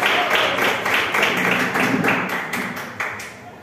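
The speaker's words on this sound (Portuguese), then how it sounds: "Vamos para receber com palmas para Deus" Church congregation applauding together during a deliverance service, a dense, fairly close burst of many hands clapping in rough rhythm that gradually thins and fades toward the end.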